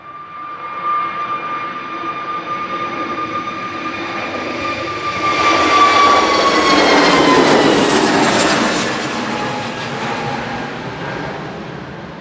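Airbus A321neo jet engines roar at Manchester Airport, a steady loud drone with a high whine that swells to a peak mid-way and then slowly fades as the aircraft passes.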